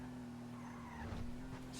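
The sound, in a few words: car driving and skidding in Grand Theft Auto video game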